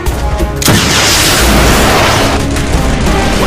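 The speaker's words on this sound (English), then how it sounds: "Get that RPG and shoot that tank!" An RPG rocket fired at a tank in the video game Modern Combat, a very loud booming launch and blast that erupts after a brief lead-in and rumbles on with heavy rolling noise.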